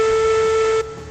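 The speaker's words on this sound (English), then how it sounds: "It's also got a very low whistle" Low steam whistle of a Climax locomotive in the railroad video game Railroads Online: one steady, loud, deep tone held about a second, then cut off with a faint tail.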